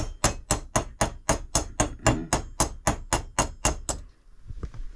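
A hammer taps on an antique silver spoon to straighten it, striking about fourteen evenly spaced, sharp metallic blows before it stops and a few softer knocks follow.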